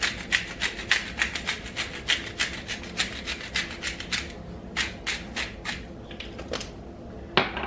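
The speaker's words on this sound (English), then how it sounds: "This one grinds fresh herbs" A hand grinder crushes fresh Italian herbs in a steady run of close, dry rasping strokes, about two per second, continuing alone with a brief pause near the end.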